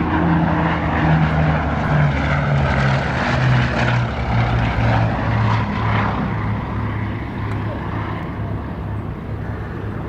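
Twin piston engines of a Bristol Blenheim roar loud and continuous at the Duxford airshow, with a steady throbbing propeller drone that slowly shifts in pitch as the aircraft passes.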